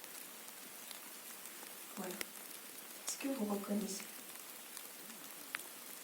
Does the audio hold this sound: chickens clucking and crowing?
no